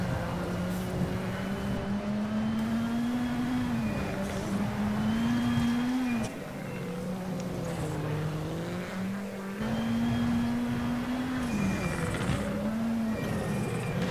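A rally car engine drones in the WRC7 video game on the 2018 Monte Carlo stage, its pitch rising and falling through repeated gear changes and throttle lifts across corners, continuous and steady with no talk.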